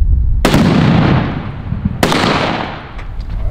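Two sharp, loud blasts from a half-pound exploding target shot outdoors, about a second and a half apart, each booming and then rolling off into a long echoing decay.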